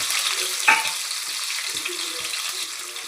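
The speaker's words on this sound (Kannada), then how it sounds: "ಈ ರೀತಿ ಮೆಣಸಿನ್ಕಾಯಿನ ಕೊಯ್ಕೊಂಡು ಅದನ್ನು ಎಣ್ಣೆಯಲ್ಲಿ ಬೇಯಿಸ್ಕೊಂಡಿರಬೇಕು." Cumin, mustard seeds, onion, tomato and sliced capsicum fry in hot oil with a close, steady hiss and a single sharp clink of a utensil near the start.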